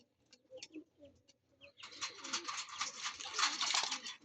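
Pigeons, blue bar birds kept in a breeding loft after breeding season, coo and murmur throughout, soft at first and then thickening into a steady, fairly close chorus with scattered flutters.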